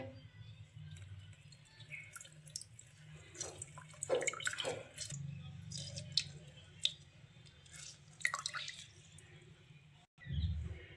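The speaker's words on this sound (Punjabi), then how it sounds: "ਹੁਣ ਆਪਾਂ ਨਿੰਬੂ ਵੀ ਨਿਚੋੜ ਲਾਂਗੇ ਇਹਦੇ ਵਿੱਚ" Lemon squeezed by hand into homemade sugarcane-style juice with mint, giving soft wet squishes and drips over low background hum, close and fairly quiet.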